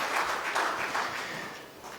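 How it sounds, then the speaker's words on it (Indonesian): An audience at a governor's national address applauds the Vice Governor, giving a short burst of steady clapping that fades slightly toward the end. "tepuk tangan buat Ibu Wakil Gubernur."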